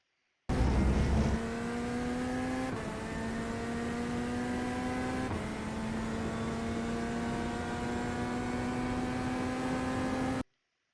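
A Chevrolet Corvette Z06 GT3.R race car in the iRacing sim at Imola holds a loud, steady engine drone, with sharp shifts and a rising pitch through the gears across the whole stretch, no talk over it.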